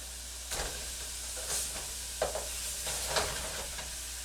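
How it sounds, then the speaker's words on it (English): Chuck beef browning in a pan makes a soft, steady sizzle with a few brief louder crackles and spits, fairly quiet and close, with no talking. "We're not cooking this beef right now. We're just browning it."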